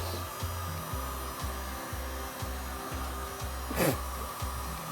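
A heat gun blows hot air in a steady, loud whoosh during a camper makeover, with a rhythmic low thumping underneath and a brief louder swell near the end.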